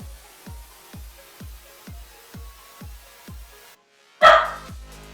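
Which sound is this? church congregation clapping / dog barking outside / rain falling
dog barking outside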